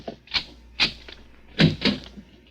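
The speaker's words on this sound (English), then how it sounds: "Open the other door, Joe." A handful of sharp wooden knocks and clacks, like a door latch and hinge being worked, spaced irregularly and close by.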